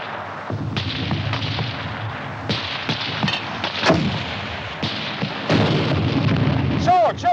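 Mortar and artillery fire in a 1951 war film: repeated heavy booming blasts with rumbling tails, loud and close, with brief shouted voices between them.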